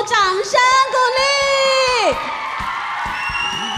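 An audience at a junior high school mother-tongue song-and-dance drama competition lets out loud cheering and whoops, with one prominent voice holding a long harmonic shout before the crowd noise settles into a steady roar.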